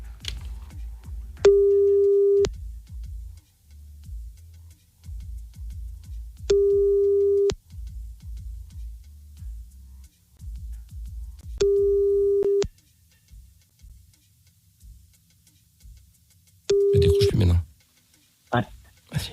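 A telephone line tone sounds while someone calls a person back after being cut off. It gives four evenly spaced, steady beeps about five seconds apart, with low clicks and background noise between them and a brief clatter near the end.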